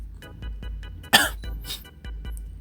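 A single sharp cough bursts out close to the microphone amid quiet background tapping, brief and loud against the soft surroundings.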